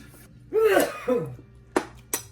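A person coughs and clears their throat a few times up close, followed by two short, sharp coughs after a brief pause.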